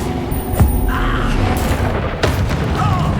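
Bombarda spell explosion in Hogwarts Legacy, a deep boom early on with a second blast burst later amid constant game battle noise.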